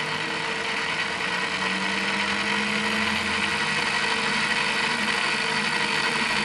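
A collector (universal) electric motor runs steadily under a TDA1085C speed-regulator board, giving a continuous, even mechanical hum and whir at constant speed throughout, with no talking.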